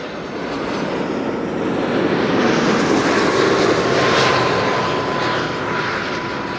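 An Air Canada airliner in Star Alliance livery rumbles past at Schiphol, a loud, steady engine roar that builds and peaks midway before slowly fading, with no talking.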